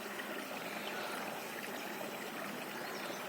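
Spring water welling up on its own with no motor pump, a soft, constant trickling and gurgling flow heard close and quiet, unbroken and without talk.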